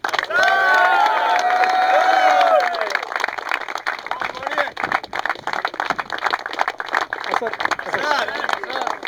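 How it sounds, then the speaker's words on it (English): A crowd claps and cheers for a cricket award at a Memorial Day match at Kirigin Cellars, with whoops and shouting voices over the start and steady clapping continuing beneath. "big round of applause for Mr. Asad Khan"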